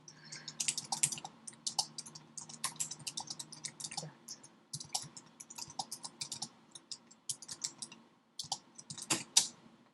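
Typing on a computer keyboard sounds as irregular bursts of crisp, quick key clicks, close and fairly quiet, with brief pauses between runs and no talking.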